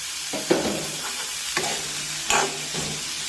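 Mushrooms with curry leaves being stirred and fried in a pan for mushroom thoran: a steady close sizzle broken by three distinct scraping strokes of the spoon.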